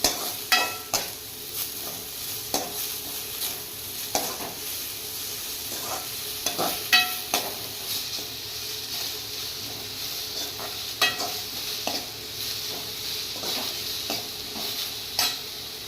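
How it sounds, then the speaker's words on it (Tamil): Onions sautéing in a pan for paneer butter masala give a steady close sizzle, broken by sharp spatula scrapes and taps at irregular intervals throughout, with no talking. "இப்போ நல்லா ஆனியன் வந்து நல்லா வணங்குற வரைக்கும் நம்ம நல்லா இதை வதக்கிக்கணும்."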